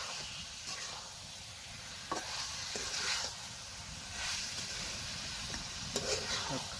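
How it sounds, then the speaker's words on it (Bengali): Duck curry sautéing and being stirred in a pan, a steady sizzle with occasional scraping clicks of the spoon, close and moderately loud, with no talking. "এখন আবার কষাবো ভালো করে।"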